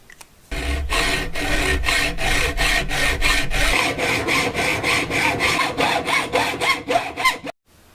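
A hand saw cuts through a strip of copper being shaped into a DIY archer's ring, with steady back-and-forth rasping strokes that run close and loud for several seconds before stopping abruptly.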